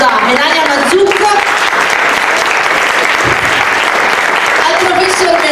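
An audience at a literary talk event applauds a guest author, loud, continuous clapping throughout while voices call out or speak over the noise.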